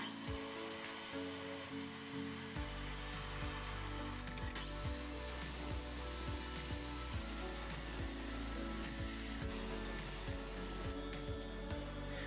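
A power saw cuts wooden pallet pieces to length in a workshop, a steady buzzing drone with a dozen or so regular stroke-like pulses across the run, fairly loud and alone.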